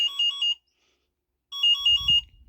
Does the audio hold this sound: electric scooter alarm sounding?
yes